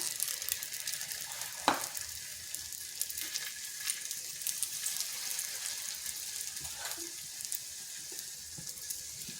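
Onion rolls fry in oil on a tawa over medium heat, a soft continuous sizzle with a couple of brief clinks, fairly quiet and with no voices.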